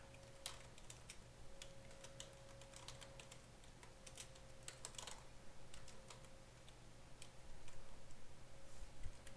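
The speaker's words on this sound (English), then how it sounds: "Let's type in something there." Quiet typing on a computer keyboard while configuring LVM on CentOS, a steady patter of light key clicks in uneven runs over a low electrical hum.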